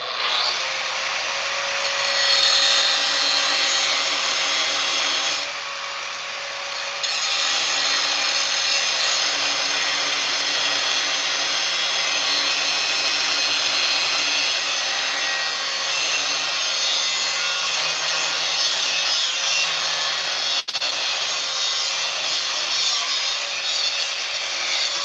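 A cutting tool slices steadily through a custom engine mount piece for a 1961 Ford F100, a loud, continuous grinding rasp lasting about twenty-five seconds with one brief dip partway through and no talking.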